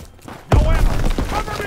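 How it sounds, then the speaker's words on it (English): Stun grenade detonating in the video game Call of Duty: WWII, a sudden loud thump and burst after a quieter lead-in, followed by ringing, rumbling battle noise. "Throwing stun grenade!"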